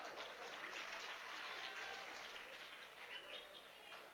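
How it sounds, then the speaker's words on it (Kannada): Audience applause at a Kannada comedy show at Davangere Utsav 2025, a steady dense wash of clapping from a crowd holding at an even level throughout with no talk. "ಒಂದ್ಸಲ ಎರಡೂ ಕಡೆಯಿಂದ ಜೋರಾದ ಚಪ್ಪಾಳೆ ಇರಲಿ ಬಂಧುಗಳು."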